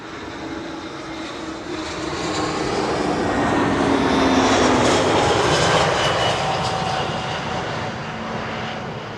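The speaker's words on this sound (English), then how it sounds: "Vueling flight 8309 is arriving from Barcelona. It's an A320" A Vueling Airbus A320 arriving from Barcelona lands at Schiphol on the Kaagbaan runway, its engine roar swelling steadily to a loud peak and then easing slightly as the jet passes, with no voices.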